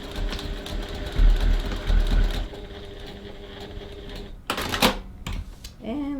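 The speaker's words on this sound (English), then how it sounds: "Stitching up to those little V's, pretty close to them." A sewing machine stitches a pocket on a crossbody bag, running in steady rattling bursts near and up close, with pauses and handling noises between runs and a brief squeaky sound near the end.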